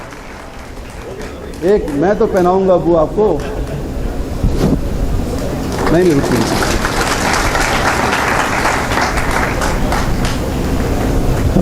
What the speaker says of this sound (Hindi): मैं आपसे गुजारिश करूंगा कि जोरदार तालियों से इनका स्वागत कीजिए।